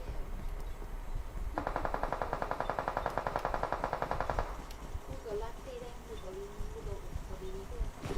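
Heavy automatic gunfire in the video game PUBG Mobile: a fast, rapid-fire burst rattles loudly for a few seconds, with scattered single shots and distant firing before and after, under a player's quiet talk.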